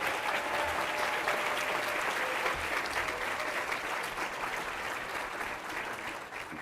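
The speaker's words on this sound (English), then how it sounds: "give them a round of applause" At an evening awards event for Behavioral Health Professionals of the Year, an audience applauds its honorees with dense, sustained clapping that holds steady and loud, then eases slightly toward the end.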